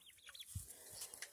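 Young Black Rock rooster chickens cluck softly in a farmyard, giving a few short, faint calls spread across a brief moment.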